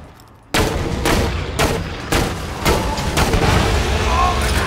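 Rapid rocket launches and explosions from a Borderlands 2 firefight, a dense run of loud booming blasts starting abruptly and continuing back to back without a break, with some talk mixed in.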